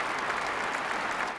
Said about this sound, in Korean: 푸틴 러시아 대통령이 연단에 서자 상하원 의원들과 군 지휘관들이 박수로